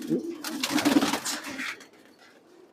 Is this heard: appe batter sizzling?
no